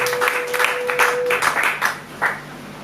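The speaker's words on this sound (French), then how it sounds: "Acclamons pour la parole" A church congregation in Kinshasa applauds during a thanksgiving service, a short burst of scattered, uneven clapping with a faint steady tone underneath that fades early.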